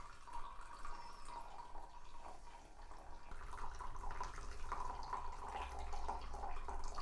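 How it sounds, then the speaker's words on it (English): Freshly brewed coffee from a Behmor Brazen Plus and an OXO On Barista Brain coffeemaker poured into two identical mugs, a continuous liquid trickle and splash that runs for several seconds and grows fuller toward the end. "So I'm gonna pour these out into 2 identical mugs."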